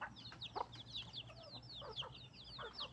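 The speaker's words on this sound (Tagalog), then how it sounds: "Sobrang laki ng dami ng manok nila." Many chickens cluck and chatter continuously at moderate distance, a busy overlapping flock with a low hum underneath.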